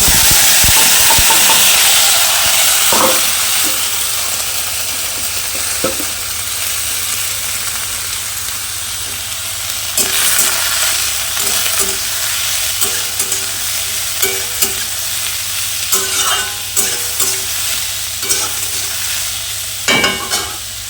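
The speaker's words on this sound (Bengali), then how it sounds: "পটলগুলো এইভাবে কেটে নিয়েছে, তার সাথে আলু দিয়েছি, এখন ভেজে দেব" Cut pointed gourd (potol) and potatoes frying in a pan, a loud hissing sizzle that settles into steady crackle, punctuated by intermittent spatula scrapes and clacks.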